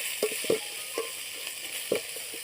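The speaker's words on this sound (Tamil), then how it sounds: "வெங்காயத்தை நல்லா 2 நிமிஷம் நல்லா வதங்க விடணும்." Onions sautéing in a pan while being stirred, with a steady soft sizzle under a few sharper scraping knocks from the spoon, close and moderately quiet, no talk.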